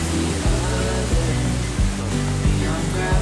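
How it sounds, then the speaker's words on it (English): Waterfall on a hike up Mt Sterling, a loud, continuous rushing roar of falling water with music playing over it. "none of them are as beautiful on the outside as this waterfall"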